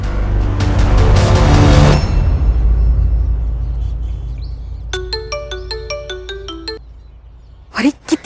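A mobile phone ringtone, a regular melodic pattern of bright tones, rings clearly in the middle after a loud, dense burst of music or noise, with brief sounds near the end.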